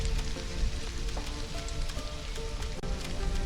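Rain falling in the video game Stranded: Alien Dawn, a steady dense patter of drops on surfaces with a continuous rushing hiss, no voices.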